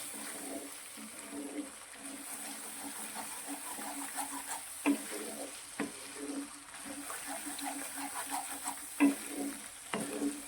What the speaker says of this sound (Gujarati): અને બધા જ મસાલાને સારી રીતે સાંતળીશું.